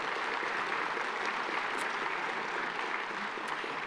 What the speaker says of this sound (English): One more round of applause for our chairman.